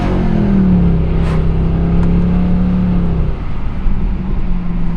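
A 2011 Mercedes C63 AMG V8 engine drones steadily with a rising tone as it accelerates, then eases off, loud and continuous throughout.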